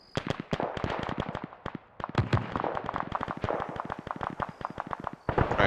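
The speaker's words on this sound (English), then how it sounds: "Shooting." Gunfire crackles in the video game Operation Deadstick: Reloaded, a dense irregular barrage of sharp shots and bursts, some near and loud, others overlapping in rapid clusters, with a brief lull around the two-second mark.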